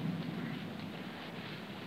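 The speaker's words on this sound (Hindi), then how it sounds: "ये बादल यूं ही गरजते रहें, ये बिजलियां यूं ही चमकती रहें" Low continuous rumble of thunder during a storm with rain, steady and moderately distant with no voices.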